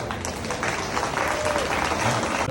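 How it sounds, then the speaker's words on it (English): Audience applause at a youth livestock beef breeding show, a steady wash of clapping from the crowd lasting throughout, fairly loud with some murmuring mixed in. "give these two people out here a big round of applause"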